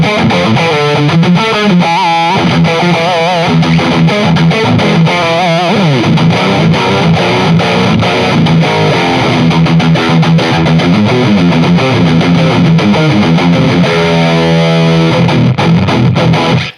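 An Ibanez electric guitar tears through fast, heavily distorted metal riffs, a dense and loud wall of chugging, rapid picking that runs continuously from start to finish, with no talking.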